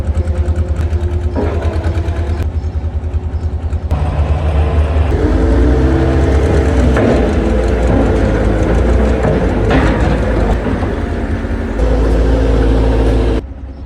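A truck idles with a deep, steady rumble, then the engine swells and its note shifts as it pulls away, loud and close throughout.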